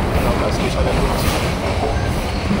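A train rolling into Lakshmikantapur station on platform 1, a steady loud low rumble of wheels and carriages, close and continuous throughout with no clear pauses.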